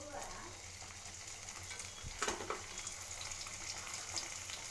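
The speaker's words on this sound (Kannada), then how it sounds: "2 ಟೊಮೊಟೊ ಹಾಕಿ ಬಾಡಿಸ್ಬೇಕು." Tomatoes sautéing in a pan for tomato dosa, a faint steady sizzle with a brief stir or clatter partway through.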